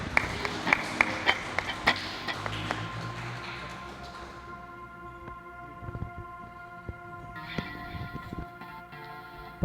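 A church congregation claps in praise at a live Sunday missions service, a run of sharp rhythmic claps at the start that thins out into scattered taps under a sustained organ or keyboard tone.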